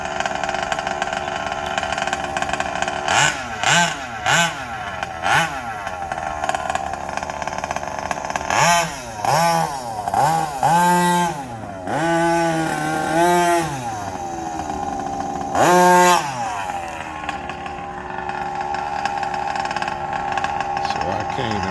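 A Rovan RFB RC rally car engine on a break-in run: a small, buzzy two-stroke motor idling steadily, with repeated short revs rising and falling, loud and close throughout.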